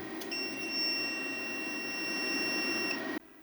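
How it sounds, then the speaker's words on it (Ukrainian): A 3 kW hybrid inverter with a built-in charger gives one sustained, high electronic beep of about three seconds when switched on, loud and close, ending abruptly. "Якщо ви хочете, щоб цей інвертор менше пищав"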